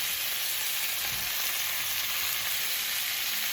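Mushrooms, potatoes and carrots sizzle steadily in a hot pan for a chicken casserole, giving a close, even hiss of frying with no talk.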